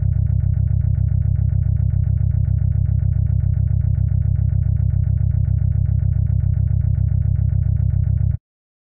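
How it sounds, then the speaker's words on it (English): A loud, heavy synth bass line using the classic 80 preset in FL Studio, steady, rapidly repeated distorted notes, droning without pause before stopping abruptly. "I am using classic 80 for the bass."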